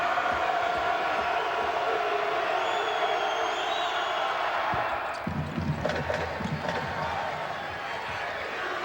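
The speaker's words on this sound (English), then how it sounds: "nice hand by the rowdy crowd of Georgians behind the Bulldog bench" A rowdy crowd of Georgia Bulldogs fans behind the bench roars and cheers at an SEC championship basketball game, a steady loud wash of noise with bursts of louder shouting toward the end.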